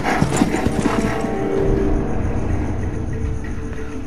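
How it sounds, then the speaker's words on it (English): Horse hooves gallop in a steady, repeating clip-clop rhythm through Ghost of Tsushima on PS4, loud and close over a low rumbling game backdrop. "Okay, so we are now hopping in the horse."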